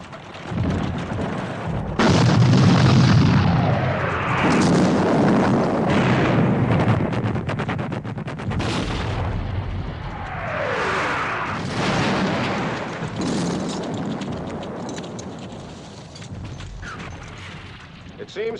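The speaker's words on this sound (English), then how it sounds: "Now's the time to move all the heavy artillery against Picton" Heavy artillery cannon fire in a Battle of Waterloo film thunders in several deep booms and long rumbles, mixed with horse hooves and whinnies and shouting battle noise.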